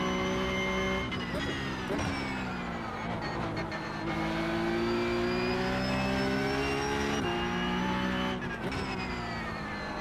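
A Porsche Cup race car engine in the iRacing sim revs continuously at high pitch, rising and dropping through gear shifts with brief dips around braking, loud and sustained, with a voice talking faintly over it.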